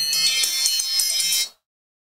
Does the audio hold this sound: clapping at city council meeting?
no